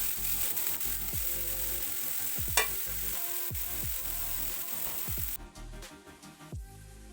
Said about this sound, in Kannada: ಸ್ವಲ್ಪ ರುಚಿಗೆ ತಕ್ಕಷ್ಟು ಉಪ್ಪು ಸ್ವಲ್ಪ ನೀಟಾಗಿ ಫ್ರೈ ಮಾಡ್ಕೋಬೇಕು